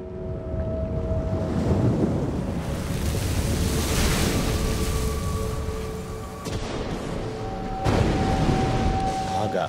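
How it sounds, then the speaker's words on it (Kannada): Storm wind roars over a lake and waves crash in a continuous loud rush, with gusts swelling and easing and a low rumble underneath. "ಆಗ ಬಿರುಗಾಳಿಯು ಸರೋವರದ ಮೇಲೆ ಬೀಸಲು"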